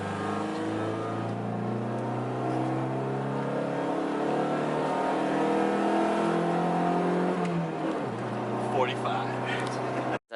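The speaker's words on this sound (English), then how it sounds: "Second gear pull." A Honda EK hatchback pulling hard in second gear, its engine note rising steadily for about eight seconds before an upshift, heard from inside the car with people talking over it.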